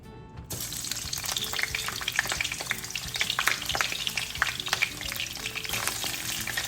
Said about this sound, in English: It looks like the oil is already heated. So I am going to start cooking now. I'm gonna start putting the onion.